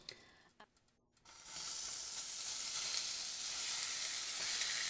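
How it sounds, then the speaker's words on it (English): Pork adobo sizzles loudly and steadily in hot oil after a few brief clatters and a short quiet moment at the start. "You can hear that nice sizzling sound."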